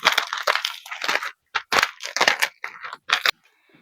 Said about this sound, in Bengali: আমি একটা ব্যালন দিয়ে চাপ দিলেই এগুলো ভেঙে যাবে